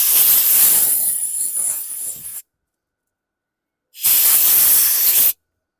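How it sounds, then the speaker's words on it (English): Compressed air hisses hard onto the carburetor of a 2015 Troy-Bilt TB230 self-propelled lawn mower in two loud close bursts, a longer blast, a pause, then a shorter one. "let me grab my compressed air"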